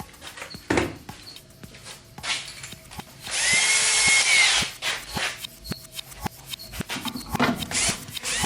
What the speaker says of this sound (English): I'm just putting the screws in, no glue, so I can pull it out.